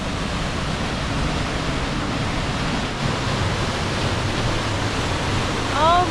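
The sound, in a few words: mountain stream water flowing near a campsite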